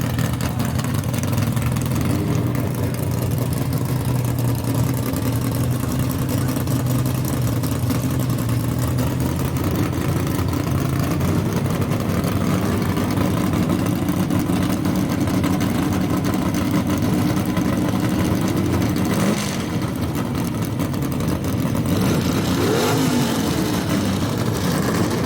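Two 1967 Camaro gasser race cars rumble at idle at Knoxville Dragway, a loud continuous low engine drone with throttle blips and revving near the end, no talk over it.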